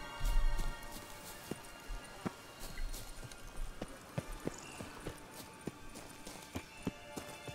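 In the video game The Witcher 3, horse hooves clop in an irregular, moderately loud rhythm during a ride, with a few sharper thuds.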